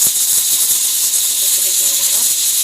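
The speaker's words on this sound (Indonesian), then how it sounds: "Nah, ini sudah mendidih" Water boiling in a pot for cooking red chilies and shallots, a loud steady hiss of steam and bubbling, with faint voices in the background.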